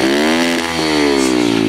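Kawasaki KLX 110 dirt bike engine running with no oil, revving hard and steady at high pitch with a rough, buzzing drone throughout, close and loud.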